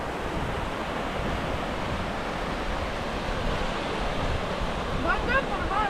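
Baltic Sea waves wash onto the shore at Kolka, Latvia, where the open sea meets the Gulf of Riga. The surf is a constant broad rushing roar mixed with wind, and brief high chirps appear near the end.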